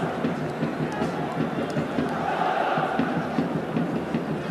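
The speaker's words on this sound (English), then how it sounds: "Crowd making their own entertainment at the moment." A football stadium crowd fills a stoppage for a head injury in an Al Nassr versus Al Riyadh match with a dense, steady roar of voices and chanting, continuous and fairly loud.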